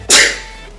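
A single sharp, loud sneeze bursts out up close in a quiet indoor room, then fades quickly into silence.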